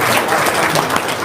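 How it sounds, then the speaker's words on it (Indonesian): Loud, dense applause from an audience at a seminar, a short steady wash of many hands clapping together. "Tepuk tangan dong."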